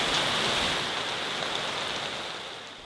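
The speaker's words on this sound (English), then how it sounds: "It's been raining all night" Heavy rain pouring down outdoors overnight, a steady dense hiss that fills the whole stretch and eases slightly toward the end, with no voices over it.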